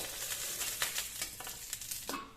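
Cauliflower pieces frying in a little oil in a pan for a rohu fish curry, with a steady close sizzle and occasional stirring scrapes, no talking.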